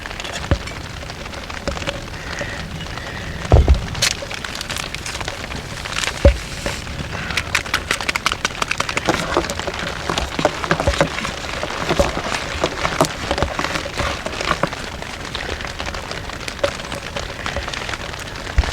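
Steady rain patters on a tarp tent in the woods, a dense continuous hiss with scattered louder drops striking the fabric close by.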